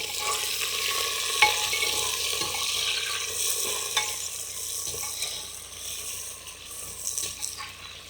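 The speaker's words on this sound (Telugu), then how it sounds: "ఉల్లిపాయలని కాసేపు వేగనిద్దాము." Onions fry in a pan for jackfruit biryani, giving a gentle, continuous sizzle punctuated by a few scraping stirs and light clicks of a spoon against the pan.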